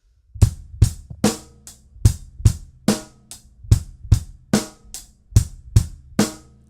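Acoustic drum kit playing a basic rock groove, kick drum on steady eighth notes with the snare cracking on beats two and four, even tempo, close and clear with no voices.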